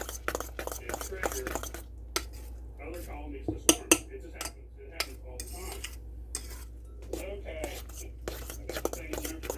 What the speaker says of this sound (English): I'm just now going to mix this all together